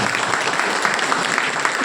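A dense, steady burst of applause from a crowd, many hands clapping together continuously and loudly with no voices on top.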